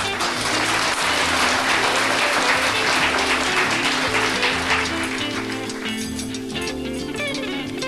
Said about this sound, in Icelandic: ég ætla að reyna að vinna mér inn enn betra klapp